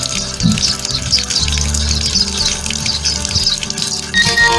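Water running into an aquaponics barrel in a DWC aquaponics system, a steady close trickle and splash filling the container throughout with a low background hum.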